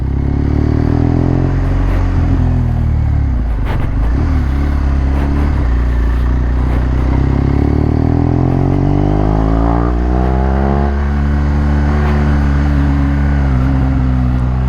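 A loud 2017 BMW R1200 GS motorcycle with a full-system aftermarket exhaust idling and revving nearby, a deep throaty exhaust rumble rising in pitch as the engine climbs, steady throughout.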